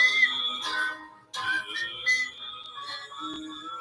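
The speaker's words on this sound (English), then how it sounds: "Whistling." A person whistles a clear, wavering melody up close, with sliding notes and a short breath gap partway through, no talking.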